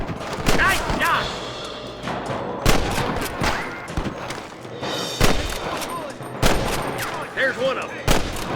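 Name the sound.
gunfire in video game Red Dead Redemption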